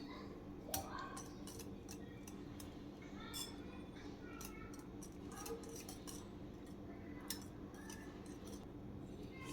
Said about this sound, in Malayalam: ഇനി ഇതെല്ലാം കൂടെ നമുക്കൊന്ന് മിക്സ് ചെയ്തെടുക്കാം.